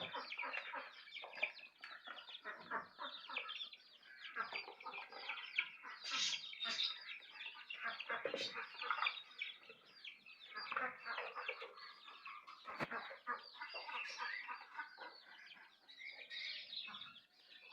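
Many Tiger-breed chickens cluck and chatter continuously, fairly close, with occasional louder squawks standing out from the flock's steady murmur.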